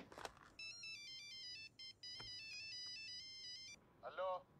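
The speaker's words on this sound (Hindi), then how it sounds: "तेरे किसी दोस्त का फोन आ गया" A phone ringtone for an incoming call plays as a bright electronic melody of repeated tones, starting after a brief voice and ending before another short bit of speech.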